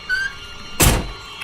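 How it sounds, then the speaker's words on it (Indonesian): A truck door shuts with a single solid thunk midway, preceded by faint squeaks and followed by a short muffled knock, all close and isolated in a radio drama. "Begitu ku tutup pintunya."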